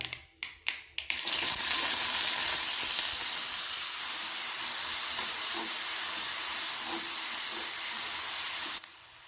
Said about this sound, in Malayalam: കടുക് പൊട്ടി വരുമ്പോൾ ഒരു സവാള കുഞ്ഞു അരിഞ്ഞത് ചേർക്കാം